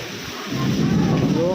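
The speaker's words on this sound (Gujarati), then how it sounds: "જો વીજળી સાથે કડાકા સાથે વરસાદ ચાલુ." Heavy rain pours during a thunderstorm. A low rumble of thunder swells in over the hiss of the downpour and rolls on to the end of the brief moment.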